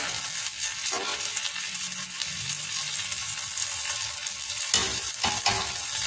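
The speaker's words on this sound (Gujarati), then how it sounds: "બટરમાં આપણી ભાજી બનાવેલી થોડી એડ કરીશું" Pav bhaji frying in butter while being stirred in a pan, a steady close sizzle with scraping spoon strokes and a few sharper clinks near the end, no talking.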